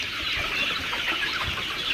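A flock of free-range village chickens clucks continuously and close by while being fed spinach, a dense, busy chatter of overlapping calls.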